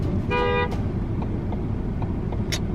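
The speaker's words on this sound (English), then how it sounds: "Fucking that girl beeped at me." Car horn beeping once, a short clear honk over steady engine and road rumble, heard from inside or near a vehicle with faint background knocks afterward.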